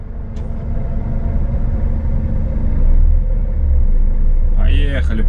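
A vehicle starts moving on an off-road route near the confluence of the Kuta and Lena rivers, its engine a loud, steady low rumble that swells slightly as it pulls away, with a brief voice near the end.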